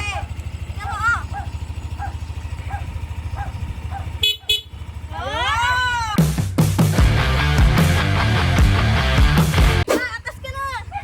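A cat meows in short, rising calls near a new Yamaha Mio Aerox 155 V2 scooter, under a steady mechanical hum and traffic noise, with people talking nearby and a louder burst of engine or road noise midway.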